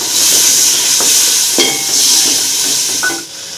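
Green chilies and tomatoes go into a hot pan with a steady close sizzle and hiss, broken by a few soft stirring knocks, with no talking.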